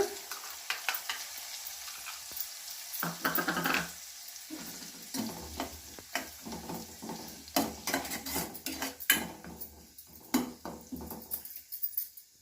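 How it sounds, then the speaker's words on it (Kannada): Semolina (rava) toasting and being stirred in a pan for pineapple kesaribath, with a soft sizzle under repeated scraping and clinking strokes of a spoon against the pan, close and fairly quiet, no talking. "ರವೆ ಹಾಕ್ತಾ ಇದ್ದೀನಿ ಅದನ್ನ ಫ್ರೈ ಮಾಡಬೇಕು"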